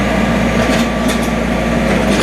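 A Ransomes lawn mower engine runs steadily while cutting a large lawn, a loud, continuous droning hum with no breaks, recorded close to the machine.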